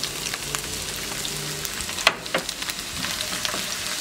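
Chopped onion and garlic frying for rice, a soft continuous sizzle with a few sharp spatter pops, fairly quiet and steady with no talk.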